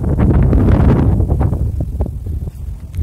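Strong wind buffets the microphone on a farmed hilltop in the Satmala hills near Chandwad, Nashik, a loud continuous roar with gusty surges and faint rustling of grass, no voices.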